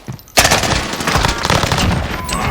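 M1912 Thompson fired from the hip in Call of Duty Warzone: a sudden loud burst of rapid automatic shots after a brief quiet start, rattling on close and sustained to the end.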